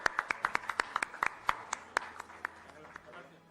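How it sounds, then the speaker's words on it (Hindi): A handful of people at a ceremony honoring guests clap in a fairly sparse, uneven rhythm, the claps close and distinct, thinning out toward the end. "जोरदार तालियां"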